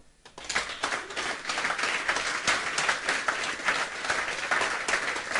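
An audience at a company event in Bangkok bursts into applause that quickly builds and then holds as dense, sustained clapping from a crowd.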